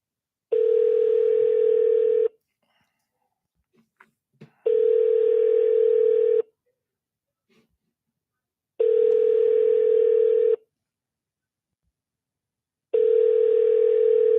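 An outgoing telephone call on a live cold-calling session plays a steady ringing tone: four long, evenly spaced tone bursts with silent gaps, broken only by a few faint clicks.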